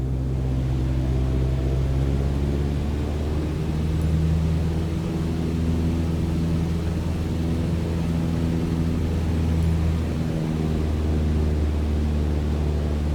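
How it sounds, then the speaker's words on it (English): Light aircraft engine in Flight Simulator throttling up toward 2400 RPM, a steady loud droning hum with strong low tones holding throughout, no talking. "let's throttle back up to 2400 RPM"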